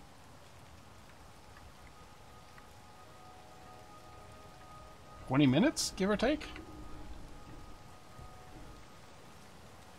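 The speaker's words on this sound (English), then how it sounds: "Let's bring in some light rain." Light rain weather in the space game Space Engineers, a steady soft patter running throughout at low level while someone speaks briefly partway through.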